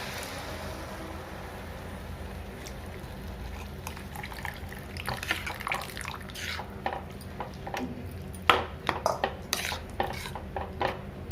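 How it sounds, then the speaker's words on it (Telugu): Tamarind broth (pulusu) poured into a curry pot, faint liquid trickling with clinks of a spoon and vessel, growing into sharper scattered metal taps near the end over a quiet kitchen hum. "ఇప్పుడు మనం తీసి పెట్టుకున్న పులుసు వేసుకోవాలి."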